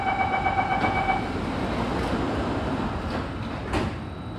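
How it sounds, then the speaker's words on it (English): Steady rumble inside an Alstom Metropolis C830 train on Singapore's Circle Line metro, with a brief electronic tone, then the soft slide and thud of train doors closing. "Doors are closing."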